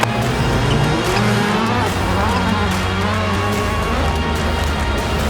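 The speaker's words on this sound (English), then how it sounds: "In the second heat, it's 3 Subarus against Faust." Subaru race cars and a rival team's car run a heat together in a competitive racing event, engines droning loud and steady with a faint tire squeal, and people talk over the continuous engine noise.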